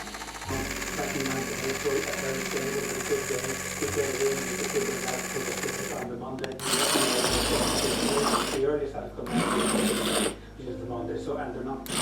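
Small DigiWiz toy forklift motor whirring steadily through a test run, a continuous mechanical buzz with louder bursts midway, with people talking faintly nearby.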